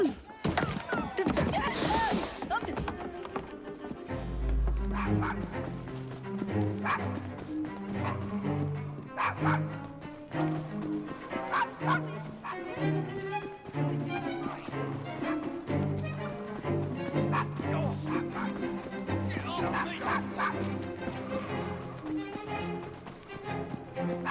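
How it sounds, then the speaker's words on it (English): A dog barks in the video game Assassin's Creed Syndicate, with a few short yips and barks mixed into a dense bed of game music and ambience. "Nice doggy."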